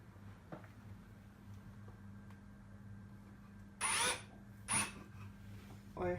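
A drill bores a shallow pilot hole into the wooden frame of a baby's cot, heard as two or three short, sharp bursts close by over a low steady background hum.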